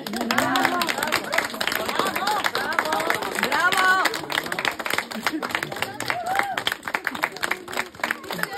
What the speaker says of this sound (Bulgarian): ама ни дайте надежда от още аплодисменти